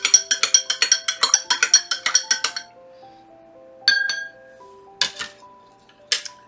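A spoon clinks against the inside of a glass jar while elderberry syrup is stirred, starting with a fast run of bright, ringing taps and ending with a few slower single clinks that ring out, close and loud.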